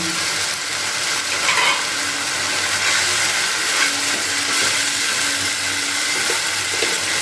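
Spice paste with tomato for coriander chicken frying in a pan, a loud, dense, unbroken sizzle with faint stirring underneath and no talking.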